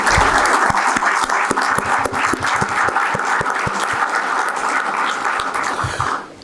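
An audience at an incubator forum inauguration claps in sustained, dense applause that stays loud throughout and then tapers off at the very end.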